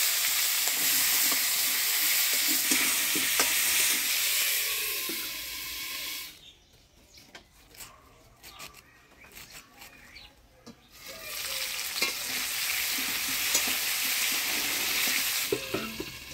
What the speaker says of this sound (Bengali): এবার আলু ফুলকপিটা ভাজি নিব।